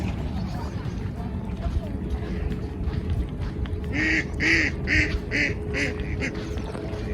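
Several ducks in Czechia quack in short bursts, loud and close, as they head into the water, over steady outdoor background noise, with a few calls clustered together near the end.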